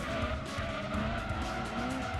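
A Mazda MX-5 brakes hard into a tight, twisty circuit in Gran Turismo 2, with steady tire squeal and skidding over a continuous engine drone throughout.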